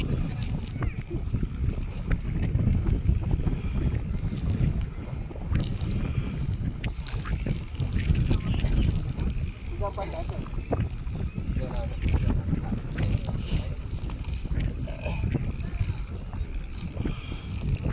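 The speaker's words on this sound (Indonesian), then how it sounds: "Angin sudah mulai agak kencang." Strong wind buffets the microphone at an outdoor kite-flying tournament in Probolinggo, a steady rough roar that continues throughout while a commentator talks over it.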